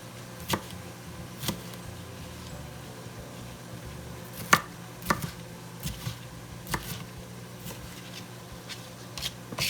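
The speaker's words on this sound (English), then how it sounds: "chop them up." Knife chopping food on a cutting board for a beef stroganoff, with a dozen or so sharp, irregular chops over a low kitchen hum and no talking.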